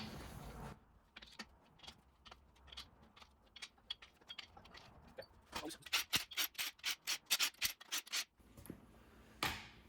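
Bolts on an engine block are loosened during a short block assembly, giving a run of quiet metallic ratcheting clicks and scraping rubs, sparse at first then quicker and more regular, close up with no talking.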